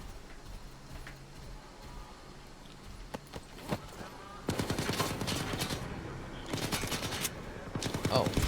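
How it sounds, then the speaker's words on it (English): Enemy gunfire in the shooter game S.T.A.L.K.E.R. 2: scattered single shots at first, then dense rapid automatic bursts that grow louder and continue to the end, with a voice speaking over the fighting. "How are you shooting me through that pipe?"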